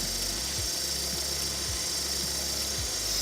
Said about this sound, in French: notre produit circule et là on l'entend, il est aspiré par le moteur